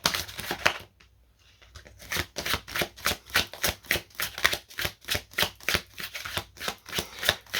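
Tarot-style cards being shuffled for a card reading, a quick rhythmic riffle of repeated flicking bursts after a brief pause, close and clear with no talking.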